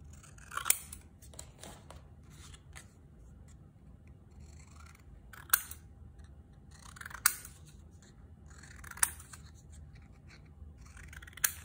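Scissors snipping through a paper tag, a steady series of small crisp cuts with a few sharper clicks spaced every couple of seconds, close and quiet with no talking.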